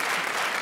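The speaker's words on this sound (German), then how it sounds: "Beifall für dich." Studio audience applause on a 1986 German television entertainment show, a dense, steady wash of clapping that stays loud and even throughout the short burst with no voices on top.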